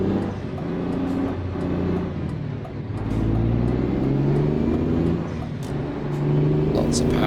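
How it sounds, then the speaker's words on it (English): Renault Magnum truck engine in Euro Truck Simulator, driving in the wet in Scandinavia, pulls hard and spins up toward 2000 RPM with a steady rising drone, while someone talks over it throughout. "Lots of power to get me up to speed. Yeah, it's very keen to spin up to 2000 RPM."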